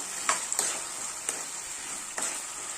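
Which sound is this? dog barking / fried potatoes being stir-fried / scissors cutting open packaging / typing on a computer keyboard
fried potatoes being stir-fried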